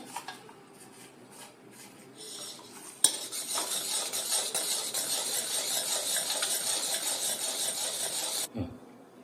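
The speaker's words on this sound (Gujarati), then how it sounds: "હવે આ લોટ મિક્સ કરી દઈશું ચાસણીમાં।" Flour is stirred into sugar syrup with colouring for mohanthal, a metal spoon scraping and clinking against the pot in busy, repeated strokes, starting with softer taps, then a louder sustained stretch of stirring that stops abruptly near the end.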